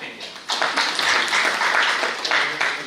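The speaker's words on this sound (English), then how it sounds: "Let's have a round of applause for Mr. Amal Malhotra sir" An audience applauds a cybersecurity speaker at an IT industry event, a steady round of clapping that swells after a brief softer start and holds for several seconds.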